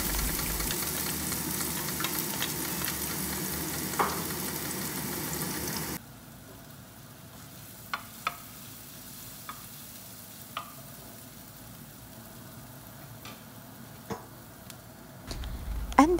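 Garlic, onion and ginger sautéing in a pan give a steady, soft sizzle with occasional light clicks of stirring, and the frying hiss is louder at first before settling lower.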